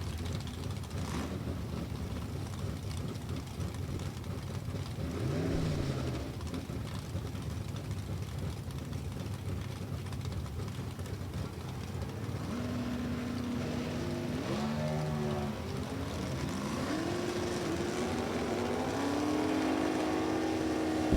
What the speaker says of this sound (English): Mark Nowicki, Bert Dawson working their way down track